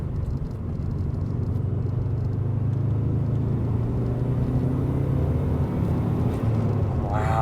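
A 1996 Subaru WRX Tommy Kaira M20b with an aftermarket intake drones steadily while driving, a low engine rumble with road and wind noise inside the cabin, holding a constant note without sharp revs.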